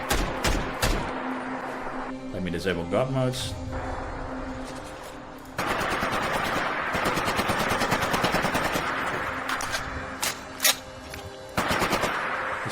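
Gunfire from a G3 rifle in the video game Fallout 4, with single shots and sustained rapid automatic bursts, loud and close, broken by short pauses; someone speaks briefly at the start.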